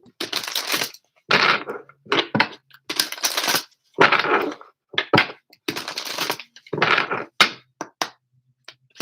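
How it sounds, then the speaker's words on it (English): Tarot cards are shuffled close up in a series of crisp, papery riffling bursts, about ten separate shuffles with short silent gaps between them. "apparently we need to shuffle a couple more times"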